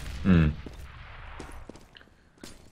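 Counter-Strike: Global Offensive match: a grenade bursts loudly near the start, followed by scattered fainter gunshots and footsteps in the game as a caster talks over the action.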